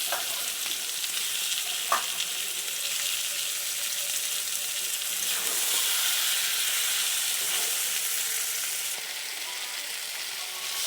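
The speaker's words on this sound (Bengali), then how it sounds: "এই যে চিকেনটাকে নেড়ে নিচ্ছি।" Chicken pieces fry in spiced oil with cumin powder and ginger-garlic paste in a kadai, a steady loud sizzle with intermittent scraping and clinks as the meat is stirred.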